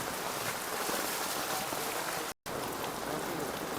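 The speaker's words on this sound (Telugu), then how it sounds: "ఇప్పుడైతే భారీ వర్షం అయితే పడుతుంది." Heavy night rain in Hyderabad, Telangana, a dense, even hiss of drops pouring steadily onto surfaces, broken only by a momentary gap.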